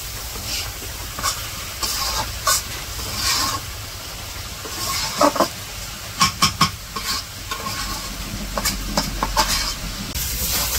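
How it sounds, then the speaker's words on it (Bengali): Banana flower and shrimp stirred and fried in a pan, village-style: a steady, close sizzle runs throughout, punctuated by irregular clacks and scrapes of a utensil against the pan, with no talking. "সব মিশিয়ে সুন্দর করে ভাজি করে নেব"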